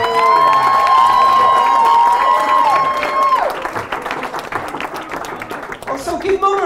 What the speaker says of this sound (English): My parents, a round of applause